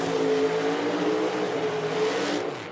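A loud nitro drag racing car roars down the track at an outlaw nitro series event, a sustained harsh engine blast with a steady pitch that fades slightly at the end.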